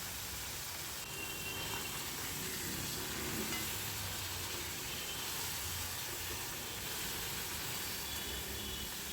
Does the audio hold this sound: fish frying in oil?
yes